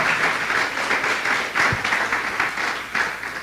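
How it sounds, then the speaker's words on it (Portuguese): A church congregation applauding, steady loud clapping from many hands that rises and falls in waves throughout. "Dê uma salva de palmas ao Senhor"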